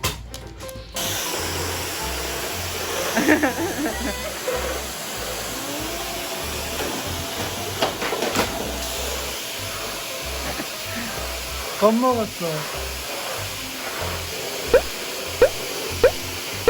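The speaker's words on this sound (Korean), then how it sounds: "청소기 돌릴 거예요" A household vacuum cleaner runs indoors with a steady whirring drone, shifting slightly as it moves, while a short spoken remark and a few light knocks sound over it.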